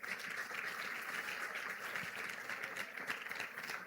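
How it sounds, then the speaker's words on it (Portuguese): A church congregation applauds together in a dense, continuous wash of clapping, fairly distant and even in level, with no voices standing out. "Dá um aplauso forte aí"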